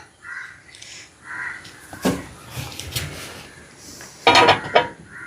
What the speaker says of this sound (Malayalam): പാത്രം അടപ്പത്ത് വയ്ക്കുന്നു